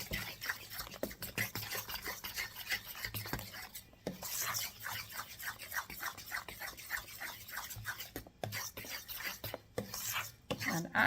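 Homemade playdough mixed with food coloring, stirred in a bowl with steady, rhythmic scraping and squelching strokes close up, running continuously with brief pauses.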